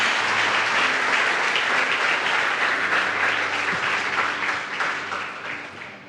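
Church congregation applauding during a Christmas service, a loud, dense wash of many hands clapping that holds steady and then gradually fades toward the end, no one talking over it.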